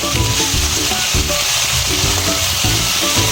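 Chicken pieces frying in hot oil in an aluminium kadai, crackling with a loud, dense, continuous sizzle close up, with no talking.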